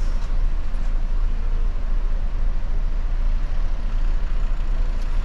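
Cars, caravans and trucks rolling onto a ferry during a summer crossing in Europe give a steady, loud low-pitched engine and road rumble with no clear breaks or talk.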